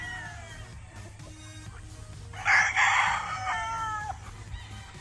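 A gamefowl rooster at a breeding farm crows once, loud and close, over a steady low background hum with a few faint bird calls before it.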